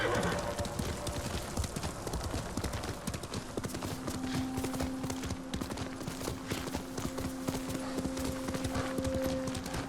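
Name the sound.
horse hooves clip-clop, video game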